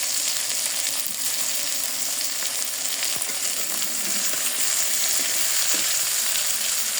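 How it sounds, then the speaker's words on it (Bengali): Rohu fish fries in hot oil with onion and green chilli, giving a steady, dense sizzle that fills the whole stretch with occasional stirring clicks and no voices. "আমি এবার পেঁয়াজ আর কাঁচামরিচটা দিয়ে দিলাম যাতে ওর সঙ্গে ভাজা হয়ে যায়"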